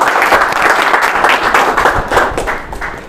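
Loud applause from a crowd at a quiz event, with individual claps audible in a lively, uneven rhythm, swelling and dipping and tapering slightly at the end.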